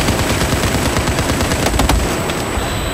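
Rapid single pistol shots in a video game crack out in a dense run against a busy, noisy game mix, with a couple of louder reports near the end.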